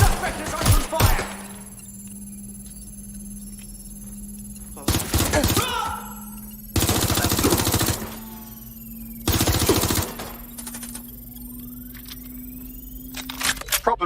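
Machine-gun fire in the video game Watch Dogs Legion, several loud automatic bursts a few seconds apart, close and sharp, with quieter stretches between them and voices heard in the game.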